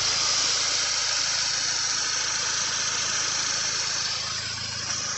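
A 2.0T engine in an Audi Allroad idles steadily at its first start after a timing job, with the mass airflow sensor disconnected: an even, continuous mechanical hum with a broad hiss over it, close and unbroken.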